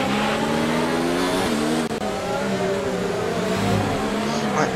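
Formula 1 car engine in the F1 2019 racing game, running with worn power, revving high and steady with rising and falling pitch through gear changes, loud and continuous; someone speaks French over it.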